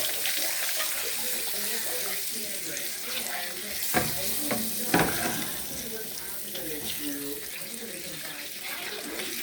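Curry sizzles and fries in a pot on a home stove, a steady crackling hiss with a few stirring knocks and faint running water, no talk.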